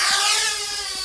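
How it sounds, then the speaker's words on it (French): Parrot Bebop 2 Power drone taking off, a loud high-pitched whining buzz of spinning rotors, close and continuous with a slight drop in level partway through. "il suffit de lui demander de décoller pour qu'il se mette en route"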